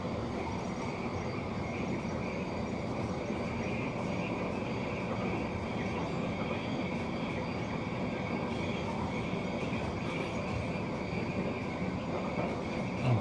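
A light rail train rolls toward Helensvale Station in South East Queensland, its steady rumble and rail noise heard from aboard, continuous and fairly quiet throughout with no talking.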